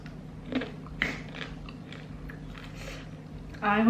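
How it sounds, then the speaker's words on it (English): Someone chewing rice mixed with kadhai chicken masala, soft wet bites and crunches close to the mic, spaced irregularly against a quiet background hum. "I hope I'm really chewing my rice"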